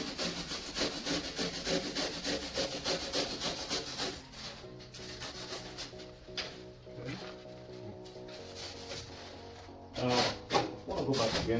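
Trimming a polystyrene ceiling panel produces a dense, steady rasping and sawing texture for about four seconds, then thinner scraping strokes with a faint hum, and a louder burst of rubbing near the end.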